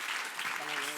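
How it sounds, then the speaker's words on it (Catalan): Audience applause at a closing ceremony for a youth video contest, a steady faint clapping crowd that continues throughout. "Un fort aplaudiment"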